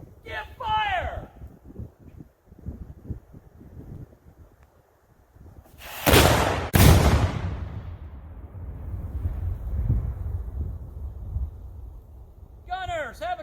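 A historic cannon fired by period gunners at Charles Towne Landing gives one loud, close blast followed by a long rumbling tail, with people talking and calling out before and after the shot.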